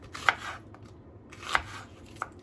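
A knife chops vegetables for soup on a cutting board, with three sparse, sharp, faint close taps spaced about a second apart in a quiet kitchen.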